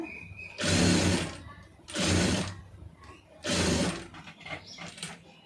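A sewing machine runs a stitch line in three short, close bursts of whirring, each a second or so long, with brief pauses and light handling between them.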